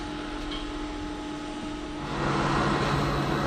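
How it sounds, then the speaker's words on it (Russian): A vacuum pump evacuates an electric car's air conditioning system with a steady mechanical hum and hiss, growing louder about two seconds in. "Сейчас вакуумируем и будем заряжать, заправлять систему кондиционирования."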